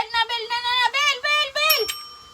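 A small tabletop bell is rung once in a face change Rubik's cube game. The single bright ding rings on near the end, after a stretch of a child's lively sing-song talking.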